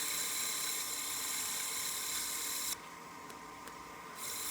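Steady, close hissing friction of 320 grit sandpaper against the rim of a wooden coin box turning on a lathe, continuous and bright, dropping briefly quieter partway through before resuming.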